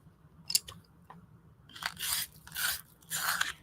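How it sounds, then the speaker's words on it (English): Several short rough grinding bursts, growing longer and louder, as a pencil is turned in a small handheld pencil sharpener, close up with no talking. "I'm going to sharpen a couple pencils here."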